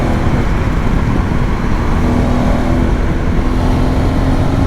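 A custom Honda X-ADV 750 motorcycle on the move, giving a loud, steady engine drone mixed with wind and road roar that holds constant throughout.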